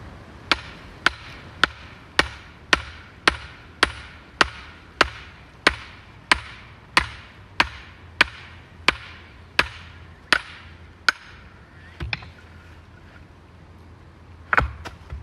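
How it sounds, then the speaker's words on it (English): Dogwood firewood being split with a hammer: about nineteen sharp, evenly spaced knocks roughly every half second, loud and close, then a pause and one last strike. "that was pretty easy to split with the hammer"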